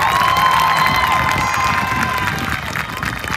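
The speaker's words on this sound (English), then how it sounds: "We can give her a round of applause for that." A crowd at a Cahokia Heights High School graduation claps and cheers for the salutatorian, loud and continuous with whoops and voices woven through the applause, easing slightly toward the end.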